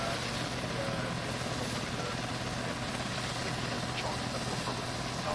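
Arma 3 helicopter sound: a steady, loud rotor drone and engine roar fill the whole stretch without pause, heard from inside or close by, with radio-style talk faintly under the noise.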